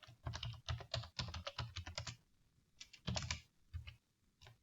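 Computer keyboard keys tapped in quick irregular bursts while writing Java code, close and fairly quiet, with a short pause midway before more clattering strokes.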